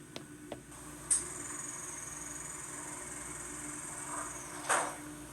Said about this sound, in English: We'll close the doors.